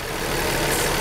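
A 2006 Nissan Quest's 3.5-liter V6 engine runs steadily, a loud, even, close-up drone with no speech over it.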